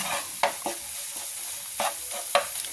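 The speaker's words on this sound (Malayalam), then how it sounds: "മഞ്ഞൾപ്പൊടി ഇട്ട് നന്നായിട്ടൊന്ന് ഇളക്കുക" Egg and turmeric stirred in a frying pan while cooking egg rice, with a steady sizzle under a few sharp utensil scrapes and clinks spaced across the clip.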